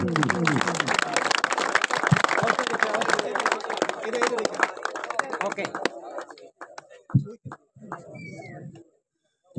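At a nighttime village cricket tournament prize ceremony, an outdoor audience gives a burst of dense clapping that fades into sparse scattered claps and near silence.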